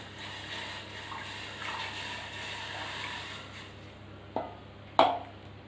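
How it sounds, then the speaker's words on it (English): Whole milk poured onto broken bread bits for a chocolate mousse, a soft steady liquid pour close by, ending with a couple of light clinks of a container. "First we'll pour in our whole milk."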